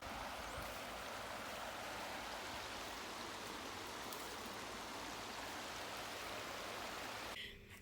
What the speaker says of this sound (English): This water is moving all the way from up the road down here, feeding into Crooked Creek